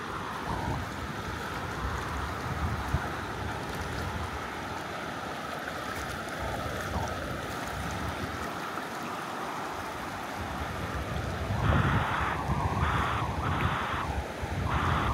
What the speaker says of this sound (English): This water flows pretty fast.